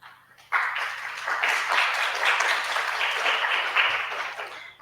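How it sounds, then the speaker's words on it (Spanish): An audience at an academic symposium breaks into applause, a sudden, full burst of clapping that holds steady for several seconds before tapering off. "Un aplauso"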